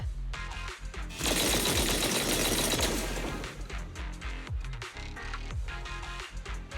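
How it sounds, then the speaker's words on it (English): A heavy burst of booming cannon fire erupts in Zenless Zone Zero, then continues as a rapid, thudding barrage under a loud, dense game soundscape. "That was the sound of a heavy cannon?"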